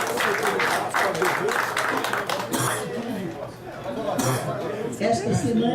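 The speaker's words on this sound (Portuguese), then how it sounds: "Solicito uma salva de palmas aos convidados e visitantes presentes." Applause for guests and visitors at a Rotary Club de Florianópolis meeting, a dense wash of clapping mixed with crowd chatter and light clinks of dishes, loud and sustained.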